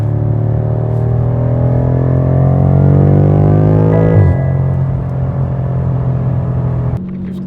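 A BMW F90 M5 in Sport Plus mode accelerates hard, its engine and exhaust droning loud and close as the pitch climbs steadily through a gear, then a quick upshift and another rising pull.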